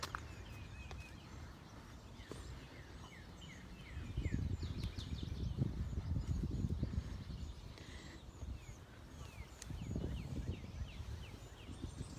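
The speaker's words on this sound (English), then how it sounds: "It looks like we've got geese nesting here" Geese nesting beside a zigzag garden bridge honk and gabble in a faint outdoor scene, with a few bird calls over a low rumbling background and a louder stretch of busy squawking midway.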